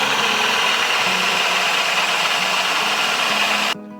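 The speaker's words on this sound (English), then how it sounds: "drill a nice hole." A power drill bores a hole in scrap wood with a 1 1/8 inch Forstner bit, a loud, steady grinding drone that runs without a break and then cuts off just before the end.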